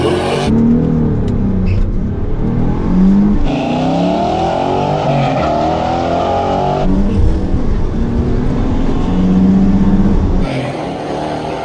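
Drag race between a 1970 Dodge Challenger with a swapped Hemi V8 and a 1995 Nissan 300ZX with a V6, loud engines climbing through repeated upshifts as they accelerate hard down the track, with some tire noise.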